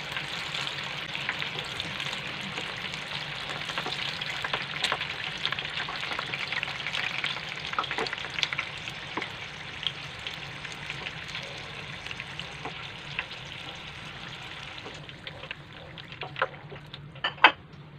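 Hanoi spring rolls (nem) deep-frying in hot oil, a steady dense sizzle with crackling bursts throughout, dying down near the end to sparse pops and a few utensil clinks; no talking.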